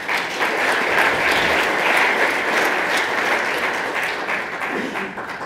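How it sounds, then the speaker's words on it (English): A conference audience at a network monitoring event gives a loud, sustained round of applause for the sponsors, a dense wash of many hands clapping that holds steady and then tapers slightly. "give a quick round of applause for those folks as well"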